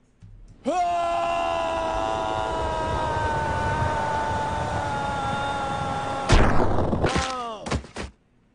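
A falling character's long scream in the video game Overgrowth, a sustained loud tonal yell whose pitch slowly sinks with an exaggerated Doppler effect, then breaks into a few short sharp cries before cutting off.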